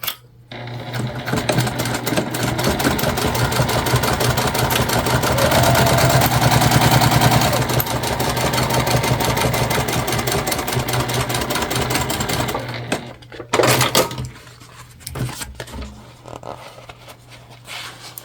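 A sewing machine top-stitches a Magnolia tote bag, running in one steady, close whirring stitch for about thirteen seconds before stopping, followed by a few handling clicks.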